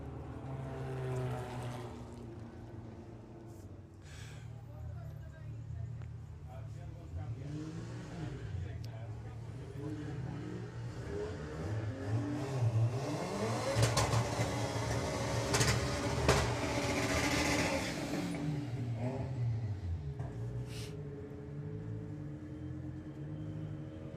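A VW Beetle drag racing at Santa Pod Raceway during Bug Jam, its engine droning and rising in a long, loud revving run, with a voice speaking over the engine noise throughout.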